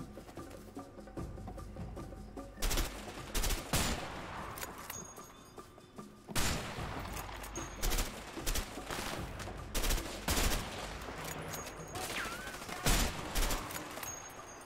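Gunfire in the video game A Way Out, repeated bursts of loud shots and rapid volleys in clusters across a firefight, over a low background rumble with no talking.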